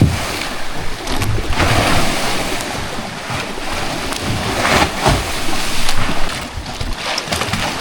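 Rough surf slaps and crashes against a small boat, with steady wind rushing across the microphone throughout.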